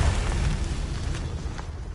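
A Confringo spell explodes in Hogwarts Legacy with a loud, close, low booming blast that rumbles and decays over two seconds, heard alone with no talking.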